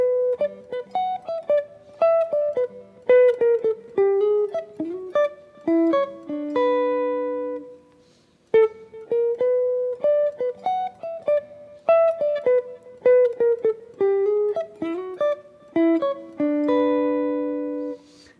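Clean guitar slowly plays the solo phrase from a 6/23/19 performance, one plucked note at a time with some notes left ringing. Nobody speaks, and a short pause splits it into two passes of the same line.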